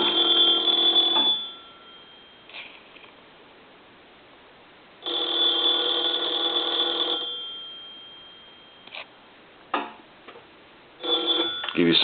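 A three-slot payphone bell rings in two long metallic bursts separated by a pause, with faint clicks and taps between rings.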